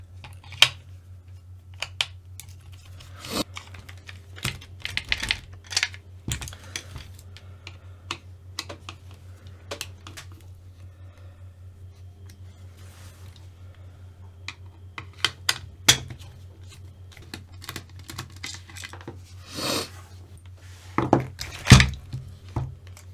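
Long screws are worked out of a Tamiya Frog RC buggy motor housing with a small screwdriver, giving sparse, sharp clicks and ticks over a low steady hum, close up and quiet.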